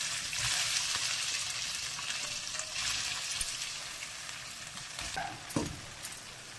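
Kozhukattai rice dumplings fry in hot oil, giving a steady, close crackling sizzle throughout with a brief sharper burst of spattering near the end.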